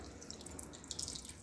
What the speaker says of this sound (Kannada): ಈಗ ನೀರು ಹಾಕ್ಕೊಂಡು